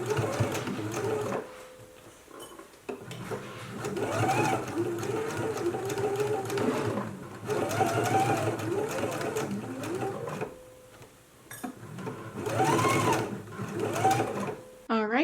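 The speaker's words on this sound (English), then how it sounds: "now we can go ahead and do a stitch in the ditch all the way around the waistband." A sewing machine runs a stitch-in-the-ditch seam around a dress waistband in several close bursts of rapid stitching with short pauses between, and someone talks over parts of it.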